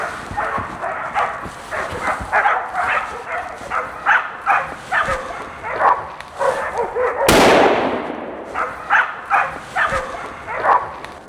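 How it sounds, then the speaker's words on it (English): Hunting dogs chasing a wild boar through snowy woods, with repeated barking and yipping at a quick, uneven pace from a short distance, and a single sharp gunshot-like crack midway. "There's now dogs behind us with the boar"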